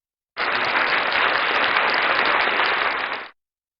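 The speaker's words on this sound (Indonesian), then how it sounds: "Kasih tepuk tangan dulu dong." Congregation in a church service breaking into steady, dense applause that starts abruptly, holds evenly for about three seconds, then stops cleanly, with no talking.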